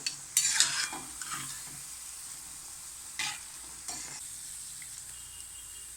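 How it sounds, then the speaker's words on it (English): Mint cashew nut pakoda fries in hot oil, a steady close sizzle broken by a few brief bubbling bursts and light clinks as the pieces are turned one by one. "Flip to the other side, one by one. Fry till golden brown."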